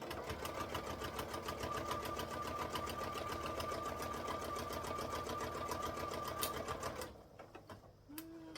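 A sewing machine runs steadily stitching a purse for about seven seconds, a close, even mechanical chatter, then stops and leaves quieter handling sounds.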